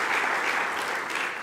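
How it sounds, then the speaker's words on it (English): A short, steady burst of audience applause in a hall at the Bled Strategic Forum 2024 in Slovenia, even and continuous with no voices over it. "your applause first of all."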